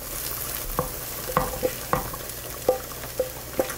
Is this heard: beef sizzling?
yes